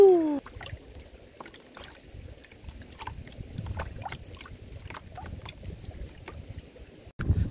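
A person wades into cold reservoir water at a Brecon Beacons bothy, with scattered close splashes and sloshing against a low watery background, followed by a sharp burst of movement near the end.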